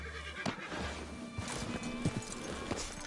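A horse in Red Dead Redemption II whinnies and trots off, hooves clip-clopping in an uneven rhythm at moderate distance against quiet woodland ambience.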